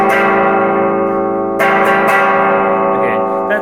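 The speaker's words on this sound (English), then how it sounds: "So this is just the Expandora as a distortion." A thick, buzzing electric guitar chord through an Expandora fuzz distortion pedal rings out loudly, is struck again partway through, and sustains on its own.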